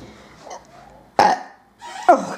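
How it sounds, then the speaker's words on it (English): Two loud, throaty burps close to the microphone, separated by a short pause, with faint murmuring before them. "Did you just burp?"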